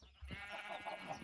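A Minecraft sheep bleats in a single wavering, nasal cry that carries across most of the moment, fairly close and clear with no talk over it.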